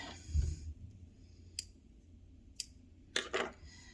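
Scissors snipping through doubled-up sewing thread while making an infinity scarf, a few sharp isolated clicks spaced apart, followed by a quick cluster of snips near the end, close and fairly quiet in a still room.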